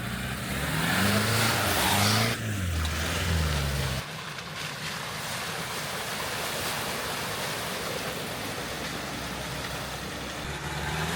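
An all-wheel-drive vehicle crosses a shallow river ford, its engine humming beneath a constant rushing wash of splashing water that continues steadily and fairly loud throughout, with no voices.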